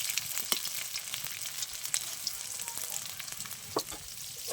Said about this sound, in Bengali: অল্প অল্প করে দিয়ে ভালো করে ভেজে নেবো আমি সয়াবিনটা